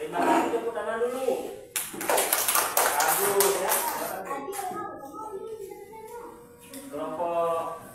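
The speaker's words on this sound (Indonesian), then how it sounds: "Terima kasih, tepuk tangan dulu" A class of children clap their hands in a classroom, a burst of loose, uneven clapping in the middle with voices speaking before and after it.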